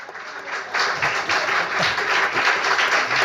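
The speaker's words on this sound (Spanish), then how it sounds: "Démosle un aplauso al Señor." Church congregation applauding during a Spanish-language sermon, a dense, loud burst of clapping that swells after a soft start and continues steadily to the end.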